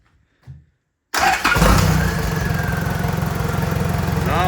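A Suzuki engine cranks and fires after the key is turned, then settles into a loud, steady, rhythmic idle. A short faint click comes just before the start.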